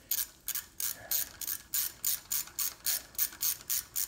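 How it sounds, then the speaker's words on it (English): Small Allen wrench ratcheting head studs into a Dodge 2.2-liter turbo engine block, a dozen quick metallic clicks in a steady rhythm, close and fairly quiet with no talking. "got a little Allen wrench."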